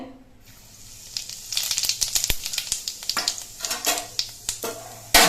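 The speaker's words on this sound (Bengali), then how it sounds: "তেলের মধ্যে দিচ্ছি অল্প একটু গোটা জিরে" Whole cumin seeds sizzle and crackle in hot mustard oil in a wok, with dense popping bursts and a few sharp utensil clicks close up, growing busier after the first second.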